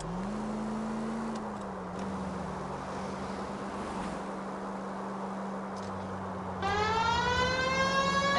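A vehicle's siren in a video game is heard over a steady engine drone and a low hum. Near the end the wailing siren switches on loudly with rising, sweeping tones. There is no talk.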